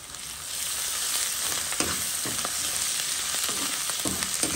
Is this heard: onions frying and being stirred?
yes